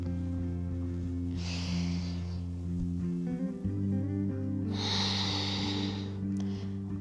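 Slow, deep yoga breathing, one long airy inhale followed later by another, close to the mic over a steady low hum and faint background music.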